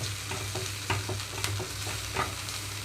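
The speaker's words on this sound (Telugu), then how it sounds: "మీడియం ఫ్లేమ్లోంచి ఇప్పుడు లో ఫ్లేమ్లోకి టర్న్ చేసుకొని అల్లం వెల్లుల్లి పేస్ట్ కొంచెం వేగనిస్తున్నాను" Ginger garlic paste frying with browning onions in a pan on low flame, a quiet steady sizzle with occasional stirring clicks and scrapes, no talk.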